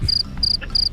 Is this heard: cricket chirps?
yes